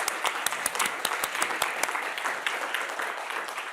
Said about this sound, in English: Let's have an applause for them.